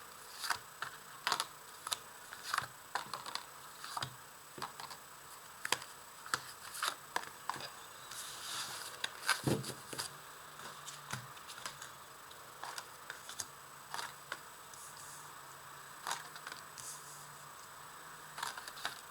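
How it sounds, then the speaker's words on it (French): Tarot cards shuffled and drawn for a reading, a run of soft crisp clicks and flicks with brief rustling bursts, close and fairly quiet, no voices. "On va maintenant tirer 5 cartes pour avoir les réponses."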